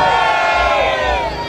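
A large crowd of football supporters cheers and shouts loudly in unison, a dense roaring wall of voices sustained throughout.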